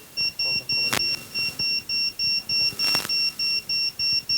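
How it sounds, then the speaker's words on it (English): Fall detection alert device emitting a steady series of short, evenly spaced electronic beeps, about two per second, fairly loud, with a couple of brief knocks in the background. "Notification"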